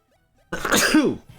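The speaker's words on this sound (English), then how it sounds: "Sorry to sneeze all over y'all." A single sharp human sneeze bursts out loud and close after a short silence, followed by a brief trailing breath.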